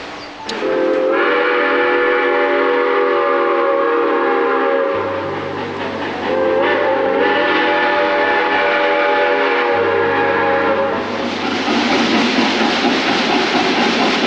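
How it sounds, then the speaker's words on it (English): Smoky Mountain Railroad scenic train out of Bryson City rolling past a river, its horn blaring in long sustained blasts over the steady rumble and clatter of the cars, loud and close throughout. "So that's the Smoky Mountain Railroad, the scenic train that leaves Bryson City"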